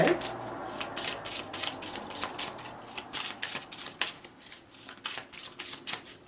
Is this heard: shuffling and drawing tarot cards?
yes